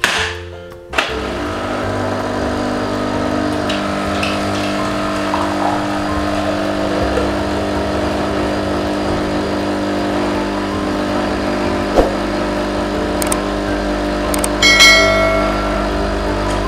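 A Dolce Gusto manual coffee machine brewing a Lavazza cappuccino pod gives a loud, continuous pump drone that holds steady throughout, with a few faint clicks and rattles near the end.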